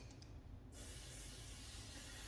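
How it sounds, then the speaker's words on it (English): A short, steady spray of SONAX CC36 ceramic coating onto a microfiber cloth hisses continuously from close by, a soft broadband rush that starts abruptly and holds. "we spray this directly onto the cloth"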